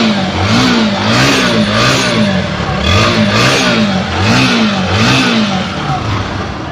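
A Bajaj Pulsar NS 160 fuel-injected ABS motorcycle, a 2022 model, revs repeatedly in close, loud bursts, its engine pitch rising and falling in a steady rhythm of throttle blips with no talk over it.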